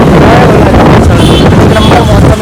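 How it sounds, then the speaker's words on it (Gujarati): Cold wind roaring loudly over the microphone during a scooter ride on an Activa in Naroda, Ahmedabad, a constant close buffeting rush that fills the whole moment. "ફૂલ ઠંડી હવા ચાલી રહી છે"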